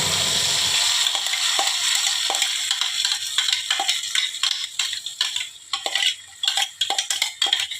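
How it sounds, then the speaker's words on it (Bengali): Pumpkin flower paste hits hot mustard oil with nigella seeds, bursting into a loud sizzle that settles into steady frying crackle under irregular spoon stirring and scraping clatter. "এই যে ফুলগুলো মিক্সিতে পেস্ট করে নিয়েছি দিয়ে দিলাম।"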